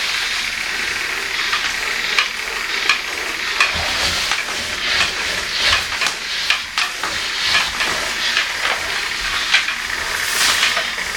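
A Shark steam mop hisses steadily, a continuous close sputtering steam sound with small crackling bursts throughout.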